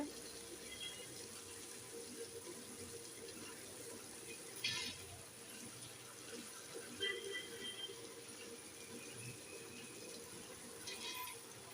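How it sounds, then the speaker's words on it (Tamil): Water is sprinkled into a wet grinder grinding soaked rice for idli batter, giving a steady faint wash of flowing, splashing water under the grinder's hum, with a few brief louder splashes. "இந்த தண்ணியை நம்ம லேசாக தெளிச்சிக்கலாம்."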